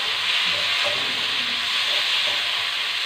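Tomato and onion sautéing in oil for a meat and vegetable kuzhambu, giving a dense, even, continuous hissing sizzle. It stays close and steady throughout with only faint stirring underneath and no voices.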